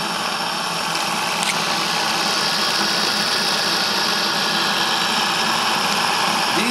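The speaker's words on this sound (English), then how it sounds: "See, the engine's running real nice, nice and quiet." A Saito model steam engine runs steadily and evenly, a continuous close mechanical hum and hiss with no pauses and no voices.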